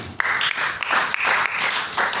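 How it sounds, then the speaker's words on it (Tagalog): Steady crowd applause at a church service, dense clapping from many hands that carries on without a break. "Palakpak sa ating Panginoon."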